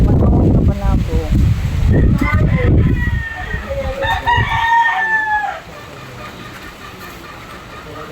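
Fighting roosters on a Philippine farm crow in drawn-out calls and cluck near at hand, heard after a burst of close speech and handling noise, then fading into quieter farm ambience.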